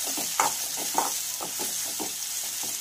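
Masala frying for tur dal varan, with a steady sizzle in oil and repeated scraping strokes of a spoon stirring the pan, close and alone.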